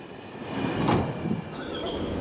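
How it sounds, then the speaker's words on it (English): Passenger train number 450 to Belgrade rolls along the line with carriages from three railway companies, a loud, close rumble of wheels on rail with a brief squeal rising midway. "Now train number 450 is heading to Belgrade, just like in the old days"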